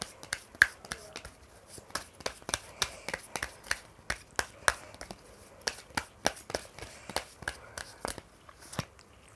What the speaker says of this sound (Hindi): मैं थोड़े से कार्ड्स आपके लिए और निकाल लेती हूँ